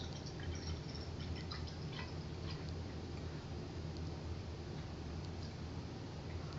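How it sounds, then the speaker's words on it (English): Cider pours steadily from a bottle in a continuous, even stream, with faint bright trickling and dripping details on top; close by, no one speaking. "let's give this a little pour"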